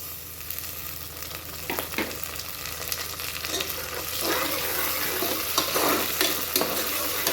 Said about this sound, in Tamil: வெங்காயம் வதக்கிட்டு இருக்கு